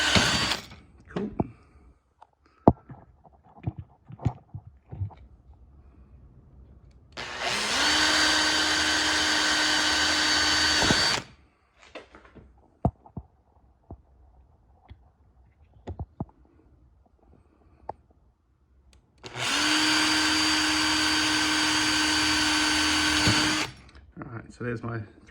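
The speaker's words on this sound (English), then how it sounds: "So there's my 3 pilot holes." A power drill bores pilot holes with a 3mm bit into homemade carbon fibre engine mounts for a 2000 Yamaha YZ250 build. Two sustained, loud whirring bursts of about four seconds each are separated by quieter handling clicks and knocks, and a person speaks between the bursts.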